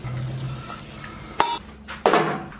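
Stewed pork belly is scooped out of a cooking pot, with two sharp metal clanks of utensil against pot ringing out over a quiet kitchen background.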